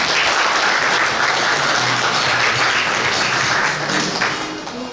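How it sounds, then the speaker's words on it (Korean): Full, steady audience applause at an industry summit conference as a speaker is introduced, dense clapping throughout that tapers off slightly at the end. "박수 부탁드립니다."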